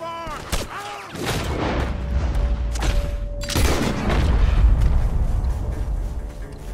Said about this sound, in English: The gunshots are coming from that farm!